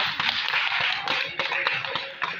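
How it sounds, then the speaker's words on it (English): Audience at an awards event for women in Mbale City claps in a dense, steady burst of applause with scattered sharper taps, fairly close and continuous throughout. "But let's give an applause to women."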